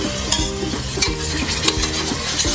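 Masala for village-style mutton fries loudly in hot oil and is stirred, with a continuous sizzle and repeated scraping strokes of a spoon against the pan, and no talking.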